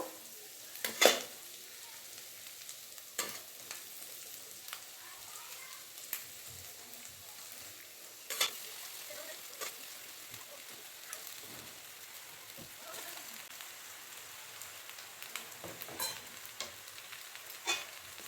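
Boiled pasta being stirred into egg masala with garam masala in a pan, a faint, soft crackling sizzle with occasional scraping clinks, spread over a long stretch.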